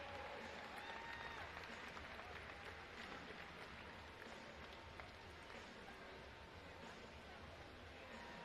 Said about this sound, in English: One more time, a round of applause for the top three finishers in the men's 200 medley